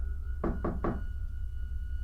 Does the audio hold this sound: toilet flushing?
no